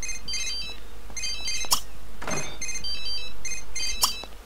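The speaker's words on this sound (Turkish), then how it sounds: "Abi kimin telefonu çalıyor? Şunu aç yahu." A repeating electronic phone ringtone from The Sims 3 plays in short bursts of bright beeping tones, loud and steady, with a softer game background behind it.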